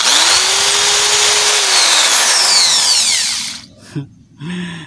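A power drill bores a hole through a used-oil stove part, a loud, close, continuous high whine that stops abruptly, followed by short voice sounds and clatter.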